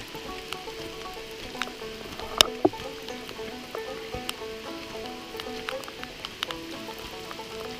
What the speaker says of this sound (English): Now we're getting some rain.